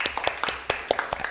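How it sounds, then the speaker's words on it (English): A few people clap by hand for a keynote speaker at an academic workshop, sparse, uneven claps close to the microphone, brief and light rather than full applause, with no voices. "I just want to give you a round of applause"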